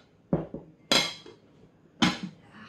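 A plate clinks and knocks against a dish while jelly for a giant Jaffa cake is flipped, three distinct sharp impacts spaced apart, close and fairly loud with brief rattles after each.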